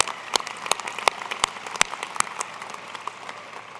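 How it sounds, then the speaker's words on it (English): Applause from a crowd at a winter university commencement ceremony in 2010, a steady patter of many hands with a few sharper individual claps standing out, fairly distant in a large hall. "Let's give her a round of applause"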